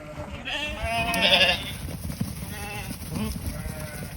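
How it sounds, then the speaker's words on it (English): Sheep bleat repeatedly on a farm while being herded toward a trailer, wavering calls rising over a low rumble of background noise, several overlapping voices in the first half. "So, come on, sheepy sheeps, let's go. Come on, sheeps."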